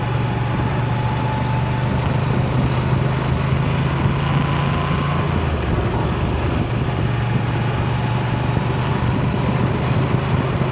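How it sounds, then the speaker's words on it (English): Motorcycle engine idling with a steady low rumble, close and continuous throughout with no talking. "I love the rumble of the bike."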